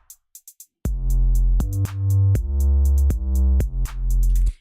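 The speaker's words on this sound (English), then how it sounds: "we'll just play the sub or the 808 and the drums together, and it sounds pretty dope." An 808 sub bass with a Legend 808 drum kit pattern, programmed in Bitwig, enters after a few sparse hi-hat ticks: booming sustained bass notes that retrigger in rhythm alongside crisp hats and snappy hits, loud and upfront.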